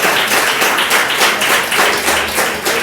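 A church congregation claps along in praise, a dense, rapid run of hand claps that pulses steadily at moderate loudness without pause.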